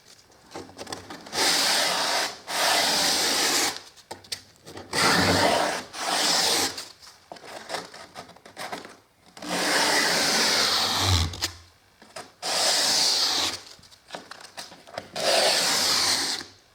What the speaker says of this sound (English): So you will need to give it a sand, that top edge as well